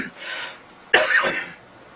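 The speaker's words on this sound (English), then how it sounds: "I've always got this little post-nasal drip thing going, especially when I talk a lot, and I end up coughing" A single sharp cough from someone with post-nasal drip, close and loud, followed by a brief fading tail, with quiet room noise before it and no talking.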